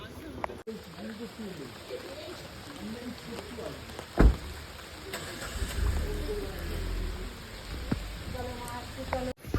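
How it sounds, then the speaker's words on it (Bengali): Heavy rain falls in a steady, wide hiss that runs the whole time, with a few sharp knocks and voices talking over it. "এখনো পর্যন্ত বৃষ্টি হয়ে যাচ্ছে"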